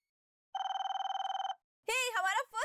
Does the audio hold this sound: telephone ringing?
yes